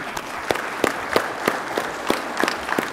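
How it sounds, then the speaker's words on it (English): A conference audience applauds its presenters at a science meeting, the clapping steady and fairly close, with sharper individual claps popping out of the dense patter over about three seconds. "give our presenters another round of applause"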